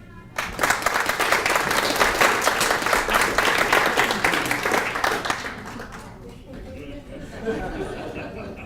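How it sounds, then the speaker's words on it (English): Audience applause at a graduation reception for Global Campus graduates: dense clapping from a room of people for about five seconds, fading into chatter and light laughter. "one more round of applause for all of our graduates"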